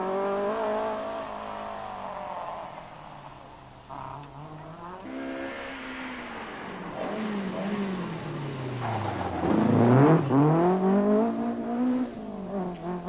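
A Ford RS 2000 rally car on a 1983 Circuit of Ireland Rally stage, its engine rising and falling through gear changes as it passes close, revving hardest near the end.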